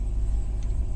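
A 2021 Ram TRX pickup's stock exhaust gives a brief, low, steady rumble at moderate level, heard alone for about a second.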